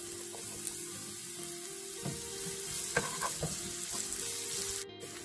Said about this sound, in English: We're going to saute the coconut until it becomes light brown in color.